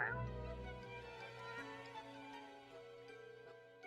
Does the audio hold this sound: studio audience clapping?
no